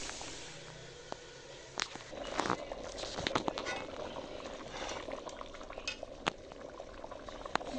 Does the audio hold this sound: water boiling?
yes